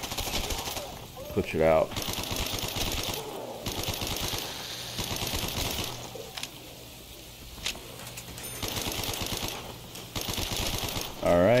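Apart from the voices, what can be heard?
gun firing in a video game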